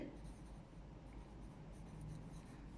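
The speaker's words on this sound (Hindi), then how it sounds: "तो मैं यहाँ पे लिख देती हूँ कैपिटल" Marker or chalk scratches on a board during an accounting lecture, a soft continuous rubbing stroke heard faintly and up close against a low background hum.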